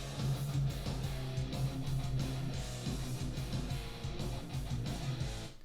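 An RPG battle theme in its first variant plays with no voices, opening on a brass swell and moving into loud, dense orchestral music with a steady, driving pulse.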